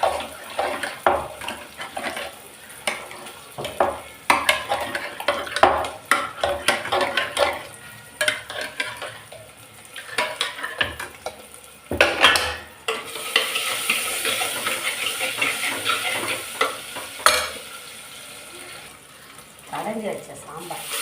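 Cooked lentils for sambar being mashed and churned in a pot with a metal masher, irregular close scraping and squelching strokes, followed by a stretch of running water near the end.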